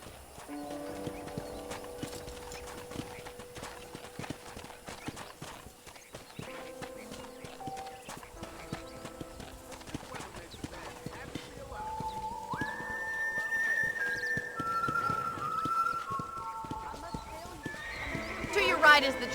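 Horse hooves clopping steadily while riding in the Red Dead Redemption video game, with occasional whinnies and some game music. Talk runs over it throughout.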